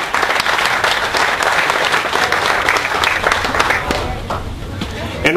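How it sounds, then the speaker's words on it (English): A crowd at a gathering applauds a vice chair as he stands, loud dense clapping sustained throughout with faint chatter mixed in. "Big round of applause to Jack."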